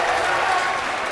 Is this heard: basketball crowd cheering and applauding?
yes